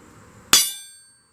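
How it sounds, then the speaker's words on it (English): A single sharp metallic strike of a hammer on a stamp punch, ringing briefly and decaying over about half a second. "That's the only reason I'm actually punching it here."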